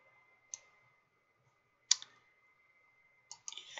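Three crisp computer mouse clicks, spaced over a few seconds, with the last one followed by a short rapid double click; close and quiet over a faint electronic hum.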